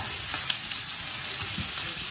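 Pork and aromatics stirred in a frying pot after pepper is added, a steady close sizzle with faint scraping stir strokes throughout, no voices.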